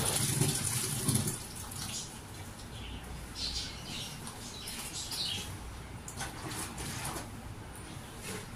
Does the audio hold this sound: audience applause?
no